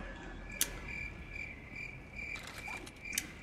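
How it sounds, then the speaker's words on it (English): Steady, continuous cricket chirping fills a quiet night ambience in Resident Evil 4 Remake, high and even, with a couple of brief sharp clicks breaking through. "And there goes the crickets"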